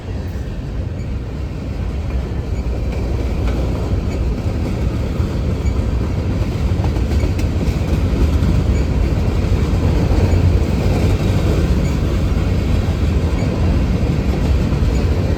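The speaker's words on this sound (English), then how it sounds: "There's a rerouted grain train heading through the Charlotte District." A rerouted Norfolk Southern grain train rolls past close by in South Carolina, a loud continuous rumble of freight cars with wheel clatter that builds slightly as it passes.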